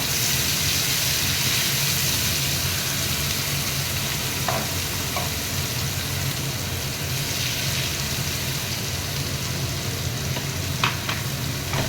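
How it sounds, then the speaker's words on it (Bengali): Onion paste fries in a pan for kaju chicken, a continuous close sizzle with occasional stirring scrapes and clicks, steady for the whole stretch and free of speech. "একটুখানি ভেজে নিই। পেঁয়াজটা ভাজা হোক।"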